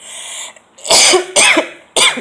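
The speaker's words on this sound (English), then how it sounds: "I'm coughing." Three loud, harsh coughs ring out close up in quick succession, following a brief breathy sound at the start.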